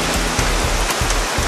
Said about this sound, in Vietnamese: Rồi hôm nay lại mưa.